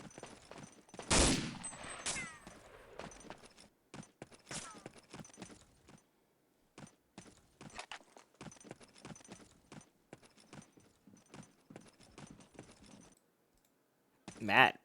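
Rifle gunfire in a World War II-style online shooter battle around a bunker: sharp shots crack out sporadically, one loud burst early, then scattered quieter shots and clicks with pauses, and a final loud shot near the end.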